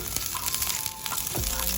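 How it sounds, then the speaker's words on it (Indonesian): Sliced shallots sizzle and crackle steadily in hot cooking oil as they are sautéed for an East Javanese beef rawon, a continuous bright frying hiss with occasional faint stirring clinks. "Nih, kita iris bawang merahnya, kita tumis ya."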